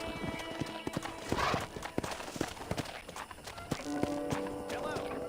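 Hooves clip-clop in a steady trotting rhythm, close and fairly loud, with a horse whinnying briefly amid other background noise in the video game Red Dead Redemption.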